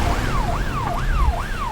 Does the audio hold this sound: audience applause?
no